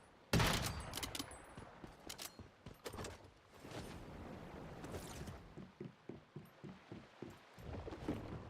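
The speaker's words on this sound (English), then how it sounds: "That was Kalon shooting at Darkling." Gunfire in the video game Once Human, with scattered distant shots and a rapid burst of regular reports near the end, moderately loud over background ambience.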